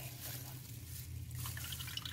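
Dough for crispy fried chicken burgers being dipped in a bowl of plain water, giving soft close dripping and sloshing sounds over a low steady background hum.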